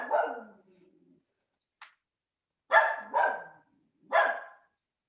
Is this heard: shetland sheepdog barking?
yes